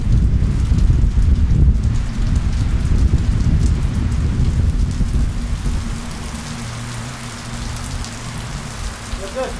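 Heavy rainstorm in rainy season, loud dense rain pounding on surfaces with a deep low rumble of thunder underneath, steady throughout.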